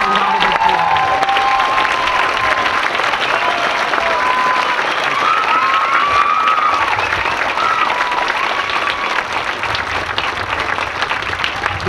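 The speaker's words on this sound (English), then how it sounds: "let's give these ladies a round of applause" Loud, sustained applause and cheering from a high school graduation crowd, dense clapping with scattered whistles and shouts riding over it for the full stretch.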